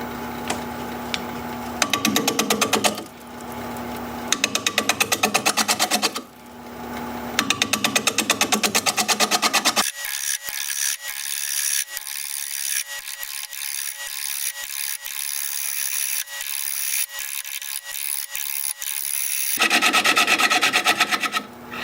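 A sycamore bowl spinning on a wood lathe at 530 RPM as a 5/8 inch bowl gouge cuts it, giving rough scraping and rasping passes that start and stop, then a long steady whirring stretch, close and loud, with no voices.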